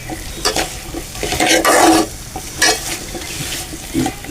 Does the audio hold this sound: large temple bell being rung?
no